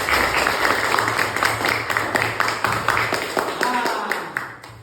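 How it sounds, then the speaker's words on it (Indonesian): A classroom of students clapping for a group presentation, a quick run of sharp, uneven claps at close range over a busy room murmur. "Ayo semua, beri tepuk tangan dulu ya."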